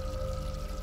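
Water runs from a tap into a pot in The Dream Machine video game, a brief, steady pouring stream that stays at an even level throughout.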